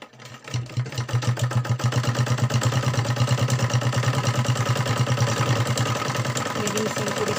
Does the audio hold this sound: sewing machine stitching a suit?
yes